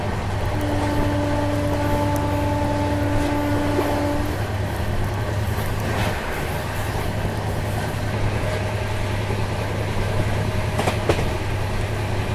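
Steady rumbling drone inside a moving Siddhabali Jan Shatabdi Express passenger train, continuous wheel-and-track noise with faint squeals and a brief clatter near the end, no talking.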